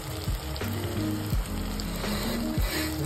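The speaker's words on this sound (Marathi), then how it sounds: "आता ह्याच्यामध्ये आपण रवा टाकून घेणार आहोत।" Semolina (rava) poured into a hot pan for upma, giving a steady crackling sizzle with a few sharp scraping stirs, close and alone.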